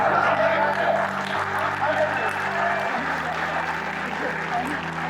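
Sustained audience applause fills a mushaira poetry event in Muscat, Oman, a dense wash of clapping from a large crowd, with steady background hum and voices underneath throughout.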